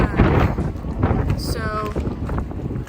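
Strong mountain wind buffets a microphone at a tent site on a Pacific Crest Trail hike, a loud continuous roar with gusts throughout, and a voice is heard speaking over it.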